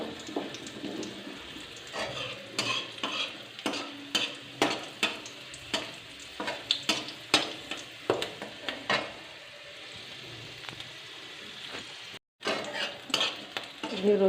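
Garlic, onion and chili frying in hot oil, with a steady sizzle under a string of close, sharp stirring and spoon scrapes against the pan, briefly cutting out near the end before resuming.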